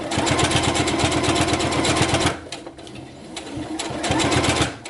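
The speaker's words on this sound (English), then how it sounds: "I'm going back to a regular stitch length and just sewing over top of my basting." A sewing machine at regular stitch length runs over basting on a welt pocket, a loud, close, steady rapid whir. It pauses briefly midway, then starts again, with no talking.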